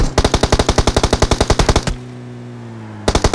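Automatic gunfire in the mobile game PUBG Mobile, a loud rapid burst of about twenty close shots, a short pause with a lingering hum, then another burst starting.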